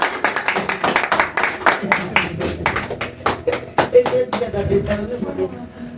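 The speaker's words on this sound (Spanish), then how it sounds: "Dale un fuerte aplauso a nuestro Señor Jesucristo" Congregation applause at a church gathering, many sharp hand claps in an uneven rapid rhythm, fairly close, with a voice talking over the clapping in places.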